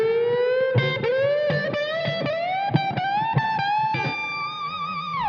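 A heavily distorted electric guitar sustains a note that repeatedly bends upward, with sharp picked attacks breaking in every half second or so.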